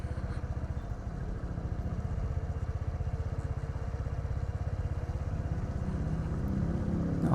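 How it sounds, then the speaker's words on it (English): A motorbike cruising along on a hot day, its engine putting out a steady, continuous mid-pitched drone with a rapid pulsing rhythm that rises slightly toward the end, with no voices over it. "I'm on a damn motorbike riding around."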